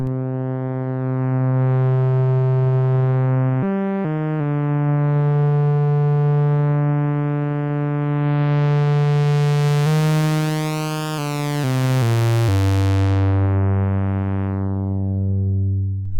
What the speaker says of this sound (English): The oscillator going into it is actually a Roland System 500 VCO